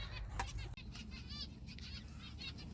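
Finches flap their wings in quick fluttering bursts in an aviary, with a few soft chirps mixed in, close by.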